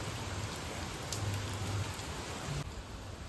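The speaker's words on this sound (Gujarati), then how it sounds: "આજે જો વરસાદ ચાલુ થઈ ગયો છે ફૂલ જોશમાં." Heavy rain falls hard and steady, a dense continuous hiss of drops on surfaces close at hand, with a faint low hum underneath and no voices.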